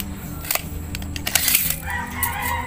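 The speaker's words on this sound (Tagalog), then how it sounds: "Marami kasi ritong manok mga boss." Chickens squawking and crowing nearby in short bursts, mixed with clattering noise from an outdoor steel workshop.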